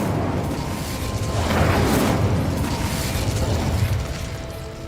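A fire spell is cast in the Hogwarts Legacy video game, a rushing whoosh that swells into a roaring burst and then fades, with mechanical clicks underneath, all at a fairly even loudness.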